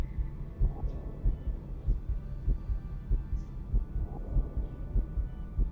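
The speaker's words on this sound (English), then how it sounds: "Do you guys hear the heartbeat?" A rhythmic heartbeat effect from Star Trek: Voyager Across the Unknown thuds in the background, deep paired beats recurring regularly at moderate level over a low droning game ambience.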